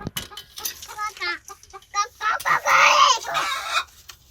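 Backyard hens clucking inside a coop, a series of close, bursty clucks and short squawks, with a louder, more drawn-out call near the end.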